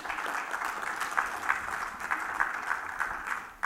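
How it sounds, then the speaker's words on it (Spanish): A church congregation applauds in steady, dense clapping from a moderate distance, a continuous wash of hands with a few sharper claps standing out, and no talking over it. "Volteen por allá y denle un aplauso a Alejandro."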